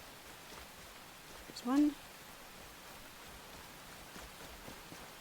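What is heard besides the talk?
rain in the video game Enshrouded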